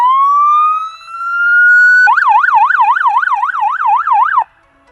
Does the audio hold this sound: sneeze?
no